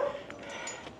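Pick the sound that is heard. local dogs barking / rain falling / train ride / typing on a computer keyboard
local dogs barking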